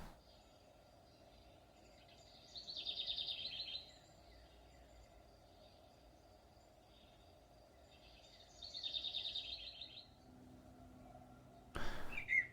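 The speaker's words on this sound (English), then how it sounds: "it makes bird sound whenever it detects something on the PIR sensor" An electronic bird-call device in a small box, triggered by a PIR motion sensor, gives two separate bursts of chirping tweets over a faint hum. A short clatter follows near the end.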